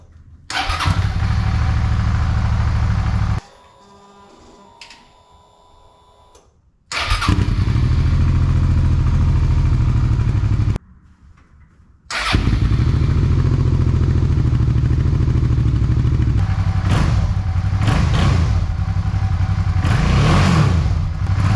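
Suzuki V-Strom 650 from 2009 with a Delkevic exhaust, engine idling loud and close in long stretches, cut by two gaps of near silence with faint clatter before it starts again, then short revs near the end.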